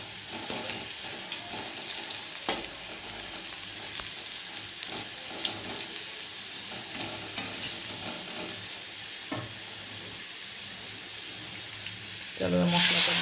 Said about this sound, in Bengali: আলুটা ভাজা হয়ে গেছে, এর মধ্যে একটু গোটা গরম মশলা দিয়ে দিলাম।